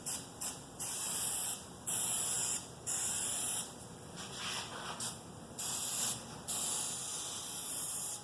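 Aerosol spray can hissing onto carpet lining a van conversion, in repeated short bursts of about a second each with brief pauses between, close and steady, no talking.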